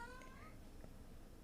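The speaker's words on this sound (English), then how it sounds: "That was my cat." A house cat meows faintly, rising and falling over steady background noise, alone.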